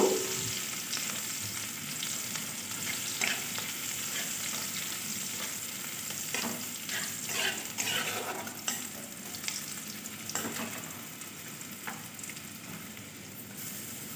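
Onion, grated garlic and green chili fry in a pan, giving a soft continuous sizzle with occasional light clinks and stirring scrapes, close but fairly quiet, with no voices.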